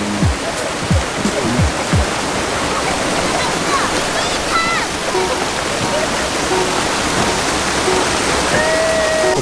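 A river flowing as people bathe in it, a loud, steady rushing wash of water with occasional splashes and distant voices and whistles mixed in.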